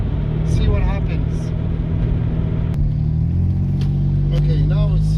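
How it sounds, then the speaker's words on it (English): A car accelerates on the road toward 100 km/h, heard from inside as a steady, loud low engine and road rumble with a faint rising hum. Occasional voice sounds come through over it. "Okay, now it's just gonna accelerate up to 100 kilometers an hour."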